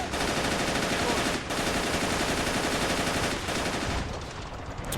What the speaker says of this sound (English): Good to see MGs opening up.